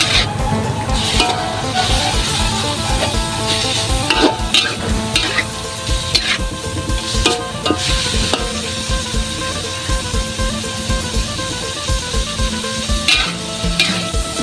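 Pork being stir-fried in a pan for a pork and napa cabbage dish: a loud, constant sizzle mixed with steady scraping and clanking of the spatula over many seconds, with no speech.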